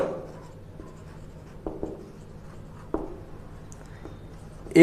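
Chalk or marker writing on a board in a physics class, soft scratchy strokes with a few sharper taps, faint and close.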